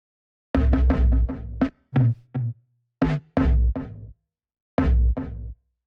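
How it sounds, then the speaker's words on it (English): Drum hits broken into choppy bursts with gaps between, each burst trailing a short echo tail, loud and close. "I took this drum roll that we have here that I found."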